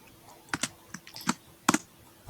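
Computer keyboard typing while writing CSS code: a handful of quick, close key clicks in small irregular bursts, crisp and isolated against a quiet room.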